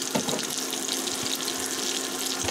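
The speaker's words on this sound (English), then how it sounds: "And I poured that in here of the chicken broth." Chicken broth pours into a slow cooker with a steady splashing, trickling stream, close and moderately loud, with no talk over it.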